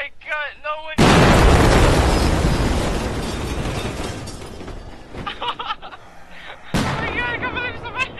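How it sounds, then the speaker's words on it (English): A huge, close explosion erupts suddenly and roars on before slowly fading, with panicked shouting from several people before and after the blast. "It's gonna explode."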